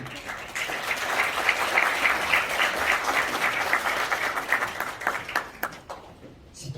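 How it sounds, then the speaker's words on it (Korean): Applause from an audience welcoming two award presenters to the stage at a cultural centre director's farewell and inauguration ceremony, a steady, dense clapping that carries on for several seconds and thins out toward the end. "두 분 큰 박수로 무대로 모시겠습니다."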